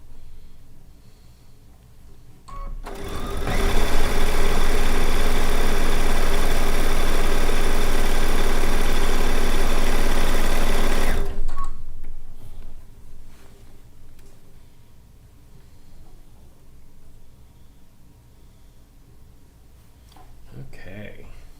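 A sewing machine stitching down a quilt: a loud, steady mechanical whir runs continuously for about eight seconds, with quieter room sound and a voice before and after.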